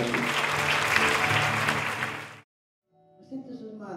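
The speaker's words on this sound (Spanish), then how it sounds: "Dale este fuerte aplauso." Strong applause from a congregation at a Catholic gathering in Chandler, Arizona, dense and loud for over two seconds before cutting off abruptly, followed after a pause by someone speaking.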